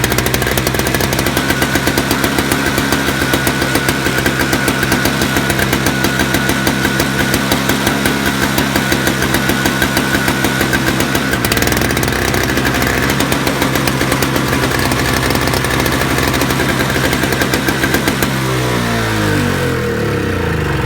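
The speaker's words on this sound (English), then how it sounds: "that's a cold start of a Toro Snowblower" A cold Toro 7-horsepower snowblower engine runs loud and close with a rough, rapid putter and sputter, its pitch shifting midway and winding down near the end.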